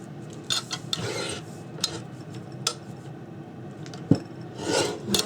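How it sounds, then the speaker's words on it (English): A Christmas card has its ends trimmed, giving soft rasping, rubbing cuts with a few sharper snips, close and fairly quiet, in irregular bursts with no voices. "I'm just taking a tiny bit off each end without cutting away the sentiment."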